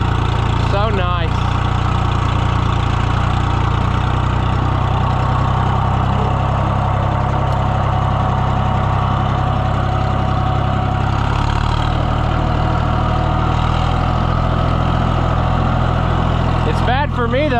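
A restored John Deere 1020 tractor engine running at a steady idle, a loud, continuous low rumble that holds throughout with faint rattles on top.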